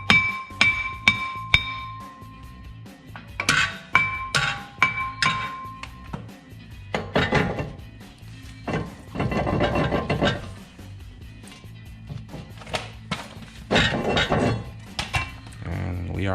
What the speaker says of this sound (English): tap this a little bit.